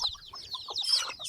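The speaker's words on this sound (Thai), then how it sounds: "ไก่ตีมีอยู่3ตัวเด้อพี่น้อง" A fighting rooster clucks in short, clipped bursts close by, with a few higher squawky notes, over a brief stretch of soft background noise.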